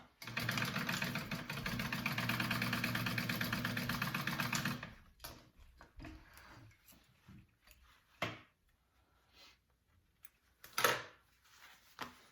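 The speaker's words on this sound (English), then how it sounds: "I'm just going to sew all the tops of my card slots here. I'm just going to top stitch these." A sewing machine top-stitches across the tops of leather wallet card slots, running loud and steady for about five seconds, then stopping, followed by scattered handling clicks and rustles.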